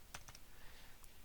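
Quick keystrokes on a computer keyboard while typing code, a short burst of a few clicks early on and a lone tap near the end, close and fairly quiet over faint room noise.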